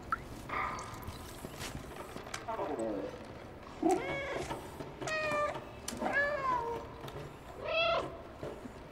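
A cat meows repeatedly in the video game Stray, several drawn-out, rising and falling cries spread across the stretch, fairly close, over faint background game ambience.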